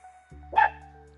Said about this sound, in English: I apologize for my dog in the background